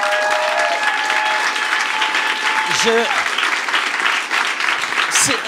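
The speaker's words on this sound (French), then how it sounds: "j'aimerais ça qu'on donne une bonne main d'applaudissements au staff du bordel" Audience applause for the venue staff at a live show: a steady, full round of clapping that holds for the whole stretch, with a few high squeaks or whistles mixed into the wash.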